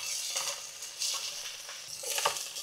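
Fried onions being stirred into a mushroom biryani mixture in a pan, giving a soft, steady scraping and faint sizzle with light clinks, close and fairly quiet.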